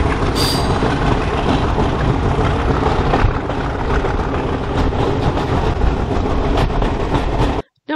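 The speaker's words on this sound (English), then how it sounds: "as well as that lovely diesel sound, this Class 50, also known as a Hoover" A Class 50 diesel locomotive, nicknamed Hoover and built in 1968 by English Electric, hauls a train at the North Norfolk Railway in a loud, continuous rumble with rolling wheel noise, heard close up until it cuts off abruptly.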